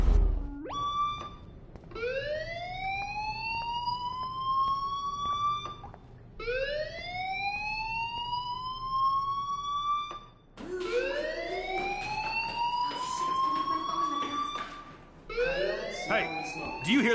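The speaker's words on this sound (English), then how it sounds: "Hey, do you hear that fire alarm?" A fire alarm wails through a scene in the game Life is Strange, sweeping upward in repeated rising tones with harsh harmonics, four long cycles back to back, loud and close, with a faint voice underneath.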